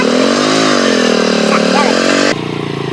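A motorcycle engine runs loud and close with a steady droning hum that shifts slightly in pitch, while people talk over it.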